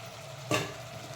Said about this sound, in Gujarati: હવે આપણે વટાણા પણ અંદર એડ કરી દેવાના